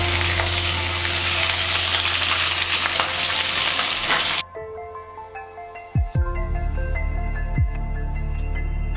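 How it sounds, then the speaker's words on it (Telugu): Green chillies frying in hot oil for Hyderabadi mirchi ka salan give a loud, steady sizzle for the first half, then it drops to quieter crackling with a few clanks of a spoon against the pan. "ఈ విధంగా మిర్చీలన్నీ నూనెలో మగ్గితే చాలా రుచిగా ఉంటుందండి"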